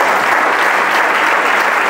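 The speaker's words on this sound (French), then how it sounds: "J'aimerais que toute la salle applaudisse." A whole hall of people applauds together in a loud, dense, unbroken roar of clapping that holds steady throughout.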